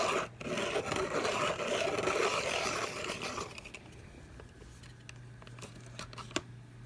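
A colored pencil sharpened by hand, close and fairly loud: a dry, continuous scraping and rasping of wood and pigment for about three and a half seconds, then quieter faint scrapes and small ticks.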